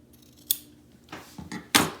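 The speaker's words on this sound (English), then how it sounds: "we'll take my fabric scissors to cut." A few quiet snips of fabric scissors cutting through felt, close up, with sharp clicks of the blades in between.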